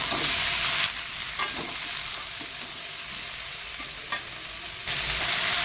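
Potatoes fry in a pan for a fish curry, giving a steady close sizzle with a few louder scrapes of stirring, alone with no talk.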